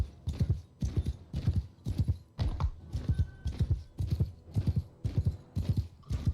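Horse hooves gallop in the medieval battle game Bannerlord, a loud, close, steady rhythmic drumming of hoofbeats in repeating triple bursts, heard alone without talk.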